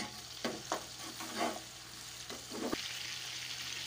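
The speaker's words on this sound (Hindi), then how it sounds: "हरी मिर्चें चॉप की भी थी, वो इनको 2 मिनट के लिए हमें फ्राई करना है।" Chopped green chillies frying in oil for beef pulao, a soft continuous sizzle broken by several scraping stirs and spatula knocks, close and fairly quiet with no voices.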